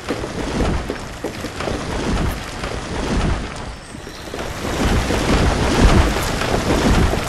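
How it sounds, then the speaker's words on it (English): Rain and thunder in the video game Banished, a loud continuous wash of rainfall with low rumbling swells throughout and no talking. "Hey, stop raining again."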